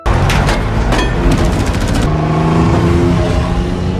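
A car in a film scene speeds off with loud, steady engine noise and a whirring rise, preceded by a few sharp bangs and rapid clicks in the opening two seconds.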